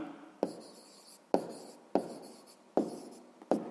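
A pen writes an answer by hand on paper with five short, distinct scratching strokes at irregular intervals. The sound is close and quiet, with no talking.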